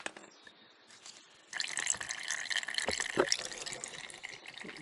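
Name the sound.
motor oil draining from Honda CRF250L engine into pan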